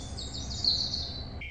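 Recorded birdsong effect playing in a brewery restroom, a brief bright chirping whistle repeating a few times over a low room hum, moderately near and clear, ending abruptly.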